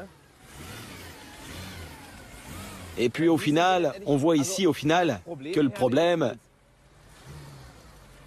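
A 6-litre V8 car engine is revved in a string of short, sharp blips, each one rising and falling quickly, loud and close, with someone talking over and between the bursts.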